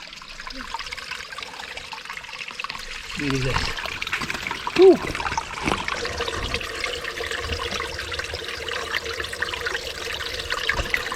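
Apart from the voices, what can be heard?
water trickling at the source of a river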